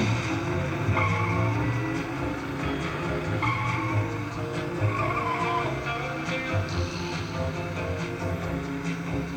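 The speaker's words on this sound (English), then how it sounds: "Brakes work." Tires squeal and skid repeatedly over a constant engine roar and game sounds from a Cruis'n USA arcade racing cabinet, steady and loud throughout.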